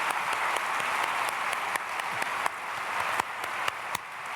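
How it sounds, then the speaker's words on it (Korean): A church congregation at a Sunday service claps for the choir, a steady, fairly distant wash of applause with a few sharper individual claps standing out. "박수하겠습니다."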